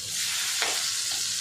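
Kala fish frying in hot oil just after being turned over, a steady bright sizzle with a brief louder crackle partway through, close and continuous with no talking.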